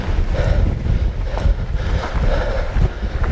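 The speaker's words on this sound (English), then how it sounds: "in the full wrath of the wind" Strong, steady wind roars and buffets the microphone on a high, exposed road during a hilly bike ride in the Yorkshire Dales, a continuous low rushing blast with no break.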